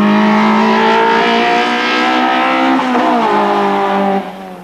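A Volvo S40 HEICO Sportiv race car screams at high revs on a racetrack, its loud engine note holding steady, then dipping and climbing again as it shifts, alone without talk.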